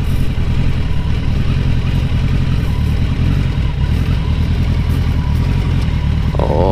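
A heavy motorcycle rolls downhill toward a tight corner on a thick bed of loose gravel. The engine drones loudly and steadily, and gravel clatters and crunches beneath the tyres the whole time.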